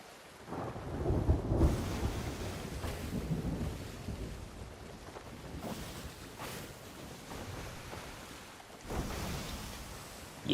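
A thunderstorm with rumbling thunder and steady rain, several deep rolls building and fading over a constant hiss of rainfall, fairly distant and without speech.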